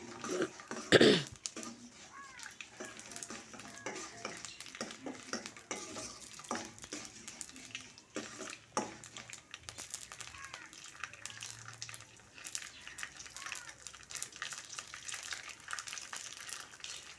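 Sago and peanuts slowly frying in a pan, a soft continuous sizzle with scattered stirring scrapes and light clinks of cookware, fairly quiet, with a brief throat-clearing sound near the start.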